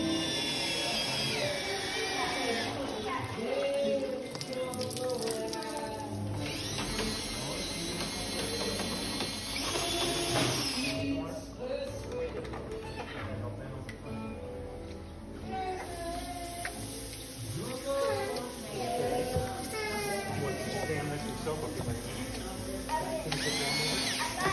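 An electric drill drives the reduction gear of a homemade poultry plucker, giving a sustained whirring, grinding hum that holds steady with a few changes in pitch. A person talks over it throughout.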